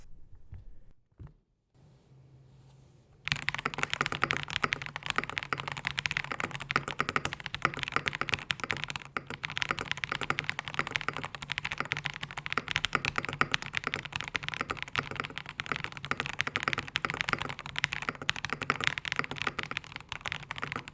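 A Class80 mechanical keyboard with an FR4 half plate in a top-mount build is typed on steadily, giving a fast, dense stream of close, crisp key clacks after a few seconds of near silence, with no talk.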